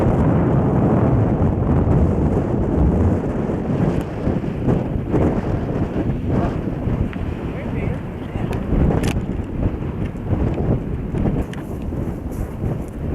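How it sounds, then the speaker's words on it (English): Strong wind buffets the microphone in loud, continuous low rumbling gusts on a hilltop, with some indistinct talk underneath. "awful windy up here"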